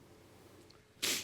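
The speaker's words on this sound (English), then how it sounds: "excuse me, I'm going to sneeze." A single sharp sneeze bursts out after a second of near silence, breathy and close.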